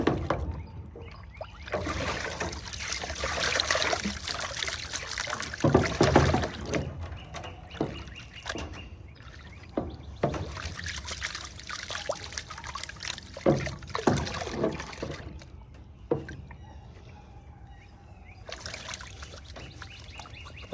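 Water trickling and washing through a sluice box while prospecting paydirt outdoors, a continuous close rushing flow with occasional splashes and handling noises, birds faint in the background and no talk.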